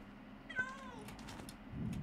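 A Minecraft cat gives a single short, faint meow with a falling pitch, heard alone against soft background hiss.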